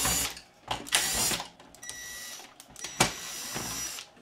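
Screws being backed out of the Magnavox Funai ZV427MG9 DVD-VCR mechanism give bursts of close, fast ratcheting whir from a driver, separated by brief pauses and light mechanical clicks.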